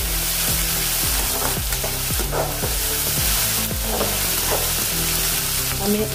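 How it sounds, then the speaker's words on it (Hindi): Tomatoes frying in hot oil in a pan, a loud, dense, constant sizzle with crackling pops throughout, heard up close with no voices. "इसको भी थोड़ा सा तेल में भून लेंगे टमाटर को भी।"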